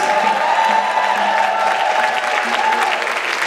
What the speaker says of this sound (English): I think we need to put our hands together for this. men's mass choir.